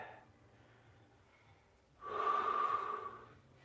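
A long, steady breath exhaled through the nose during a beginner vinyasa flow yoga class, close and airy, rising after a quieter stretch of soft background breathing and lasting about a second and a half.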